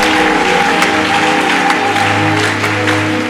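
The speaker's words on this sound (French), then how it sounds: "Pendant que vous êtes en train d'acclamer" A church congregation applauds and cheers at a prophetic worship service, a dense, continuous wash of clapping and crowd noise over sustained music tones, loud and close throughout.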